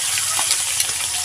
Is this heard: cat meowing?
no